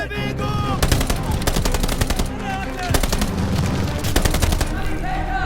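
Rapid bursts of machine gun fire in the Call of Duty: Vanguard wartime shooter, loud and close, repeating in several long volleys over dense battle noise with voices shouting underneath.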